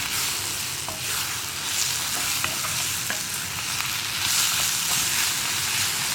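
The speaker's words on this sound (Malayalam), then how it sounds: "ഇനി പൊടികളൊക്കെ ഒന്ന് കുക്കായി വരുന്നത് വരെ ലോ ഫ്ലെയിമിൽ വെച്ച് നമുക്ക് ഇളക്കി കൊടുക്കാം" Spice powders for an egg kurma, turmeric among them, are stirred in a pan over a low flame, giving a steady soft sizzle with light scraping strokes throughout and no voices.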